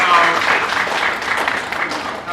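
Audience clapping after a talk at a student leadership workshop, a dense, steady burst of applause filling the short stretch without a break.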